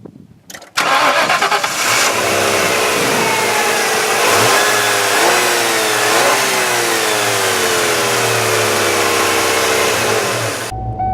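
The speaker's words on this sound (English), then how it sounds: "So this is this famous 5-liter V8 that's in this 1994 model." A 1994 Ford Mustang GT with its 5-liter V8 starts up close by, then settles into a loud, steady burbling idle with a few rising and falling revs, alone without talk.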